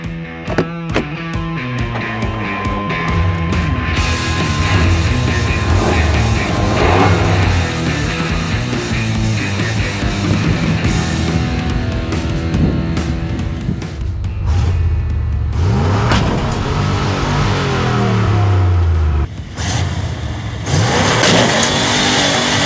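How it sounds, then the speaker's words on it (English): A Chevrolet C1500 OBS pickup truck engine revving hard on asphalt during a burnout attempt, loud and close, with repeated rising and falling surges and brief breaks between pulls. "Can it do a burnout? Let's find some asphalt and find out."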